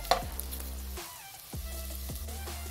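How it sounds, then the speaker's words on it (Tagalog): Onion, garlic and ginger sautéing in a pan for a squid and tomato dish, a soft steady sizzle with a few stirring scrapes and knocks, quiet and close. "okay na yung ating sibuyas, bawang at saka luya guys"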